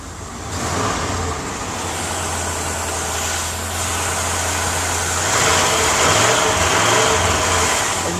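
A 1989 Jeep Grand Wagoneer engine idles steadily after start-up, a low continuous rumble held close for the whole stretch, with broadband mechanical noise and no talking.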